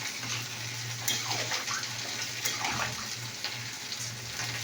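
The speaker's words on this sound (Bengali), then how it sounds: "এটাকে আমি জল ঢেলে দিলাম" Water gushes steadily into a cooking pot holding potatoes and spices, a continuous close pour with a low hum beneath it.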